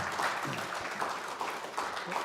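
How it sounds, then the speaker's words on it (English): Audience applause at the end of a talk, a dense steady clapping from a crowd that continues throughout without fading. "Can you join me in giving Chris Bedford one more round of applause?"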